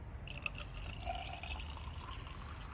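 Water poured into the cooling system of a BMW E46 while bleeding it, giving a faint, steady liquid trickle with small drips and gurgles against a quiet background.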